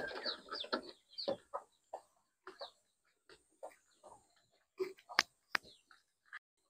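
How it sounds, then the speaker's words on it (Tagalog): Native chickens cluck in short, scattered bursts close by, some sharp squawks and soft murmuring calls separated by brief quiet gaps in a farmyard. "Tingnan niya natin pala yung ating native na manok."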